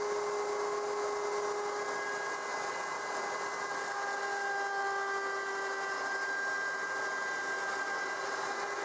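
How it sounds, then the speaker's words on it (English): A router rounds over the top edges of wooden pull-out pantry shelves, giving a steady, loud high-pitched whine with constant motor tones that run without a break the whole time, close up and with no talking. "I decided to put a slight round over on the tops of all 4 sides."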